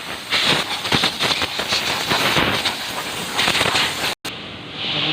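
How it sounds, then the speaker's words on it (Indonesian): Loud, hissing bursts of compressed air blow through a Mitsubishi Xpander car's engine bay in rapid pulses, briefly cutting out before the rush resumes. "Kemudian kita bersihkan ruang mesin dengan udara bertekanan."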